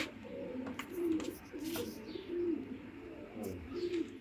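Racing pigeons cooing softly in a loft, repeated low throaty coos at a relaxed pace with faint rustling and light chirps in the background.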